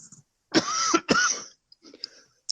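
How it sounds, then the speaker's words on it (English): One person gives two harsh, close throat-clearing coughs back to back, then a few faint breathy rasps trail off in an otherwise quiet room. "Feel free to cough."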